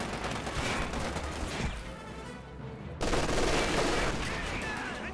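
Machine gun fire in a strategy video game battle, with rapid bursts and crackling fusillade alternating with a brief lull, heard at moderate loudness beneath the game's ambient noise.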